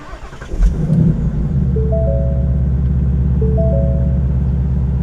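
A Ford Mustang Bullitt pulls away with a loud, steady low engine rumble that builds briefly after a sharp onset, then settles into a constant drone close by.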